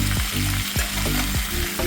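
Potato and banana slices fry in a pan with spices and garlic over medium heat, a steady loud sizzle broken by several scraping stirs at a regular pace, with no talking.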